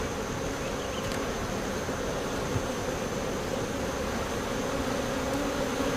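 Honeybees drone in a dense, steady buzz during an early July hive inspection on a farm. The buzz is close and continuous, with no voices.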